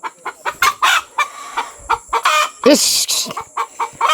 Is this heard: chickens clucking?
yes